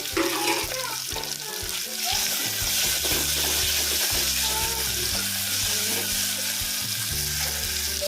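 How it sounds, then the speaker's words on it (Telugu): Cucumber, tomato and okra pieces frying in a clay pot for a curd rasam, giving a loud, steady sizzle with wet crackling and stirring throughout. "ఇప్పుడు ఇవేవైతే దోసకాయ ముక్కలు టమాటా ముక్కలు బెండకాయ ముక్కలు ఇవన్నీ వేసేస్తున్నాం"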